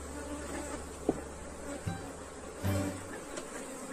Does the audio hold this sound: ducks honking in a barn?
no